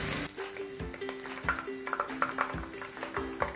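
Onions frying in a kadai while being stirred continuously, a steady sizzle broken by regular metallic scrapes and clinks of the spoon against the pan, close and clear.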